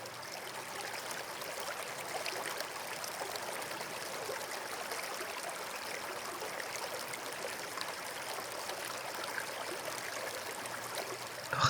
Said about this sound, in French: le courant de ce petit ruisseau